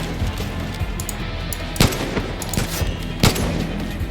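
Sniper rifle shots in the shooter game Far Cry New Dawn: two sharp loud cracks about a second and a half apart over a steady background of game noise and ambience.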